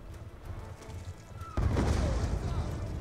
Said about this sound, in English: So many bombs.